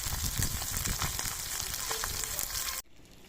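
Pieces of bata fish fry in hot oil, a steady close crackling sizzle with small pops that runs for a few seconds and then cuts off abruptly.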